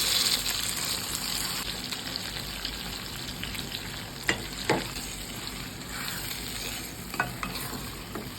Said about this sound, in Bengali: পেঁয়াজ বাদামি হয়ে এলে ফার্স্ট স্টেপে সিদ্ধ করা গরুর ভুঁড়ি এর মধ্যে দিয়ে দিব